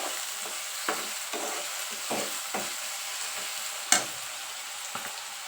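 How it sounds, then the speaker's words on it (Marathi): Capsicum curry mixture sizzles steadily in a pan over a high flame while a spoon stirs it, the scrapes and clacks landing at irregular intervals above a constant soft frying hiss, with one sharper knock near the end. "सगळं मिश्रण एकत्र भाजून घ्यायचं चांगल्या पद्धतीमध्ये"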